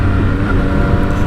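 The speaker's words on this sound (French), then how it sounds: "Le moteur là, ce 3 cylindres, il est fou." A French three-cylinder roadster motorcycle engine runs loud and close, holding a steady, throaty growl with no pauses.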